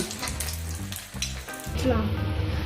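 French fries frying in hot oil, a loud close sizzle with bubbling that steadies and brightens toward the end.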